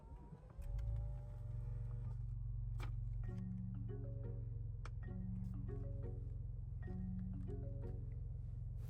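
A 2022 Lincoln Navigator Black Label engine cranks and catches, swelling briefly before settling into a smooth, steady low idle hum, while faint chime-like tones repeat over it.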